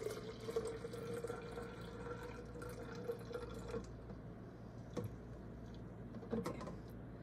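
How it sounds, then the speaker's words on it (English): About 180 ml of milk being poured into a blender jar, a faint steady liquid trickle that tapers off, followed by a couple of soft knocks. "So first we're going to put in some milk."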